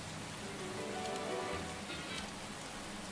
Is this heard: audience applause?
no